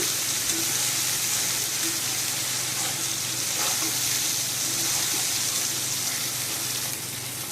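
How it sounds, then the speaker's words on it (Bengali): Spice masala for a lentil dhoka curry being sautéed in oil in a pan, loud continuous sizzling and hissing close by with faint stirring scrapes. "ভালো করে কষানোটা দেখছেন কত সুন্দর কষানো"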